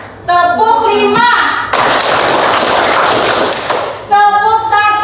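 Many hands clapping together in a counting clap game in a classroom, a dense burst of claps lasting a couple of seconds, with voices talking before and after it.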